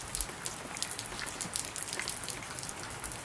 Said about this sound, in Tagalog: Oh, naulan ah.